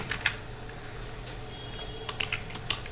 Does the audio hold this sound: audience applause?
no